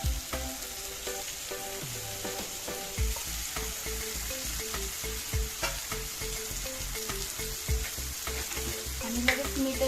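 Chopped banana flowers frying in a pan, a steady close sizzle with repeated stirring scrapes and knocks of a spoon against the pan.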